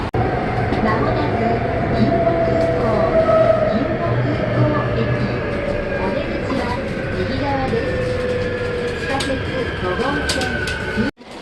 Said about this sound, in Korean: 이제 지하철 타고 공항으로 갑니다.